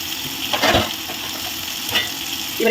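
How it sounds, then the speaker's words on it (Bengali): Food seasoned with turmeric and salt fries in a covered pan, giving a steady close sizzle broken by a few short scraping stirs, with no one speaking. "অল্প করে একটু হলুদ আর একটু নুন দিয়ে এটাকে ভালো করে ভেজে নেব ঢাকা দিয়ে ভালো করে ভেজে"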